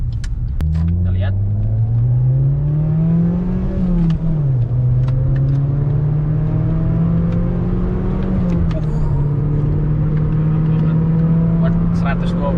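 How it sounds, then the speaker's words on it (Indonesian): A Suzuki Swift Sport fitted with a racing exhaust drives and accelerates from inside the car, its loud engine drone rising in pitch through the gears with a brief dip at a gear change. "Ini karena kenal knalpotnya udah diganti racing, jadi suaranya agak berisik sedikit."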